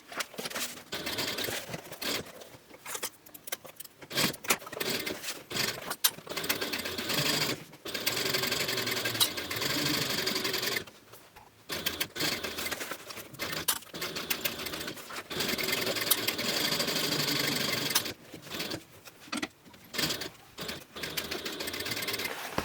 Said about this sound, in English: Now we're going to sew along this edge here, and we're going to leave this part unsewn